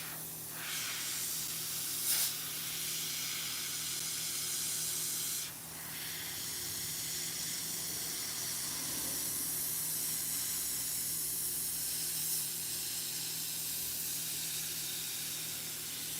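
An airbrush gun sprays yellow paint onto a shirt, giving a steady, close hiss that runs almost unbroken, with a few brief bursts and slight shifts in level.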